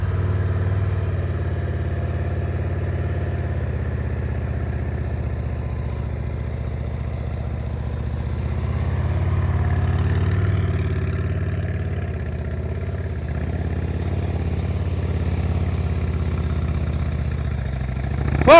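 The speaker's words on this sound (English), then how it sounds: "listen to that throttle. Keep it steady." A motorcycle on a slow-speed riding practice course in Tennessee holds a steady low throttle near idle, making a continuous close rumble that swells slightly now and then and never opens into a full rev.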